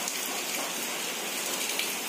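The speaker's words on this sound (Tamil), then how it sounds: "இது வந்து மார்னிங் 6:00 பாருங்க, இவ்வளோ அழகாக மழை பெஞ்சிட்ருக்குன்னு." Early morning rain falling steadily, a dense even hiss of drops striking surfaces, close and continuous with no pauses or talk.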